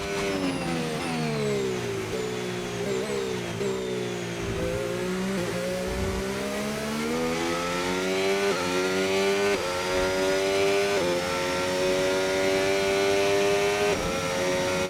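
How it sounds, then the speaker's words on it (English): Williams FW4 Formula 1 race car in the F1 25 game during Las Vegas Grand Prix practice, its engine droning loud and close, with the pitch climbing and dipping through gear changes for a continuous stretch and no talking. "now let's turn on the engine"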